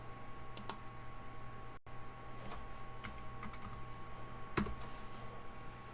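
Several light, scattered keystrokes click on a computer keyboard while a dimension value is entered during SolidWorks sketching, quiet and close against a faint steady hum.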